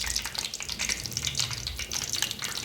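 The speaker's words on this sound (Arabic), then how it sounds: "رح اقلي الخبزة" Pieces of bread fry in hot oil in a pan for fatteh, giving a steady, close sizzling crackle that keeps on without a break.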